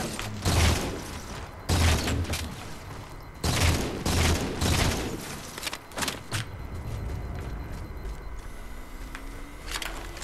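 Sniper rifle fire in the Halo 4 video game, heavy booming shots in a few spaced bursts with rumbling game ambience continuing between them, loud and close, no speech.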